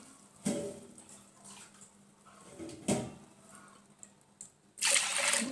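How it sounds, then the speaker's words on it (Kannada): Two cups of water splash into a pot for lentil soup in a few short pours, ending with a longer, louder gush close by in a quiet room. "ಎರಡು ಕಪ್ ನೀರು ಹಾಕ್ತಾಯಿದ್ದೀನಿ ನೀರು ಹಾಕೋತೀನಿ"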